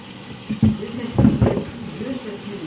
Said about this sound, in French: Là, je fais un petit filet d'eau